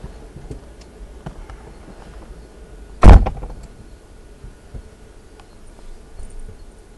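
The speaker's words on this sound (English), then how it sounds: "Shut the door." A single sharp car door slam lands midway, loud and close, against a quiet interior background of faint rustling and small clicks.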